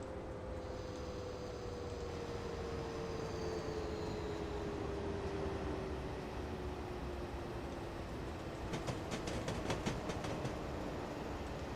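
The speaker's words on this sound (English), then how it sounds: "An empty container train." An empty container train rolls past as a faint, continuous rumble. Toward the end a series of rhythmic wheel clicks sounds over rail joints, and no one speaks.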